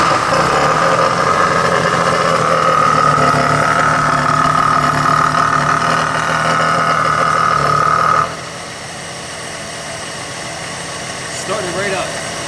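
A car engine starts and idles after a carburetor adjustment, giving a steady, close running hum for about eight seconds. It then cuts off abruptly, leaving quieter background noise.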